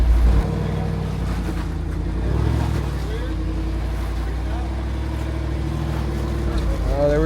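A Jeep 392 V8 rumbles low and steady while crawling over boulders on an off-road trail, with a brief throttle swell partway through and people talking over the engine.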